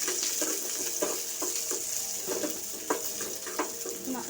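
Chopped green chillies sauté in a pan for a village-style coconut chutney, giving a steady sizzle with soft, regular stirring scrapes close by.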